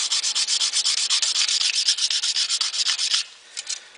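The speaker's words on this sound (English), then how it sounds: "that area has been sanded pretty much smooth" Abrasive sanding on a dented stainless steel car trim piece, a close, steady back-and-forth rasping in even strokes that stops near the end, leaving a few brief scrapes.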